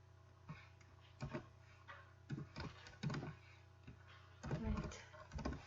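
Someone types C# code on a computer keyboard: irregular bursts of crisp, close key clicks separated by short pauses, with a faint steady hum underneath.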